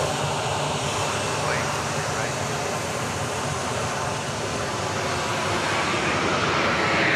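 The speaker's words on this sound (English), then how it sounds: "That was the flight to Houston taking off there." A passenger airliner taking off from Dallas Love Field, a broad, steady jet roar with whooshing air, heard from a distance and sustained throughout.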